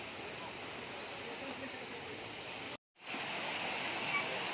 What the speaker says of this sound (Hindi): पानी की आवाज़ कितनी सुंदर सुनाई देती है